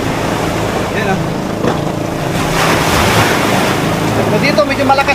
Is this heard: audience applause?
no